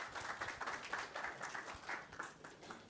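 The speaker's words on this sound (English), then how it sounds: "ladies and gentlemen, a round of applause for Dr. Sky Kawaloa and JJ Nanquil." A crowd applauding at an esports championship, a continuous wash of many hands clapping at moderate volume for a few seconds, with no talking.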